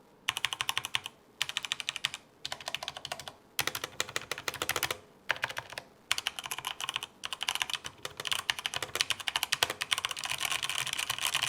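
Typing on a Redragon mechanical keyboard with red switches: rapid, close, crisp key clacks in bursts separated by brief pauses, growing denser toward the end, with no talk.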